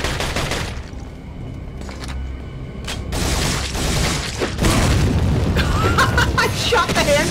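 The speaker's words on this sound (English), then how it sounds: "I shot the hand grenade out of the air!" In Resident Evil 4, a hand grenade shot out of the air bursts amid a string of booming blasts and gunfire, loud and dense, while a voice talks over the action.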